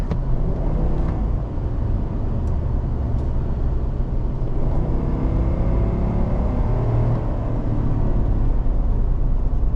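A 2022 Chevrolet Silverado 1500 ZR2 with a 6.2-litre V8 kicks down under acceleration, producing a loud, steady low engine roar and rumble from inside the cab that holds for the whole stretch.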